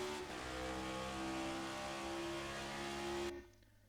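Simulated NASCAR NextGen race car at COTA climbing a hill in a racing sim, its engine droning loud and steady with a clear tonal whine, then cutting off abruptly near the end as it shifts up a gear.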